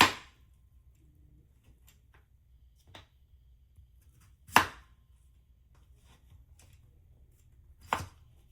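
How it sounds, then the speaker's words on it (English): A knife chopping potatoes thinly for homemade hashbrowns and tater tots, with a few sharp, separate chops on a cutting board spaced seconds apart, close and quiet between strikes, no voices. "you want to try to chop them as thinly as possible"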